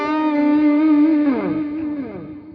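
Distorted electric guitar plays a slow, held arpeggio line from the solo of a song, with notes bending and sliding downward partway through; loud, alone and fading toward the end.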